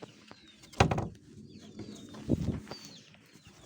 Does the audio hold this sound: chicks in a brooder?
yes